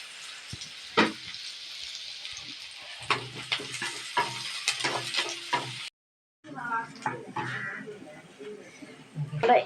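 Sliced onion sizzles and crackles as it fries in hot oil in a pan, a step toward making kappa (tapioca) biryani, with intermittent stirring and scraping over a steady hiss and a brief pause midway.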